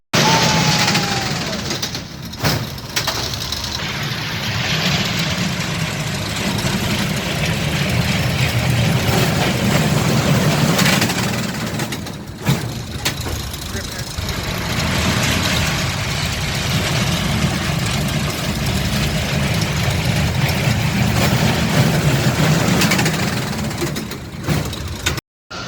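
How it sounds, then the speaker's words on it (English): Motorcycle engines idle at an amusement park with a steady low rumble throughout, continuous and fairly loud, with brief dips and no talking. "Motorcycles go rum rum."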